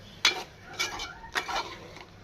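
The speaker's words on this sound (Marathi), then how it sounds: "आणि इथे आपला अंड्याचा रस्सा कडतोय" Egg curry gravy with kokum simmering in a pot, heard as a few short bursts of bubbling and spoon-against-pot clatter about half a second apart, close and moderately loud, with no talking.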